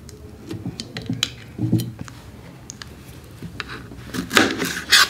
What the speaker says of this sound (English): I'm gonna cut this again. Some strawberry slices in there.